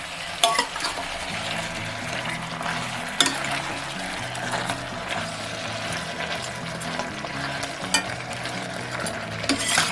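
Chicken curry pieces sizzle in hot oil in a pan while being stirred, a steady frying hiss under repeated scraping and knocking of the spoon against the pan.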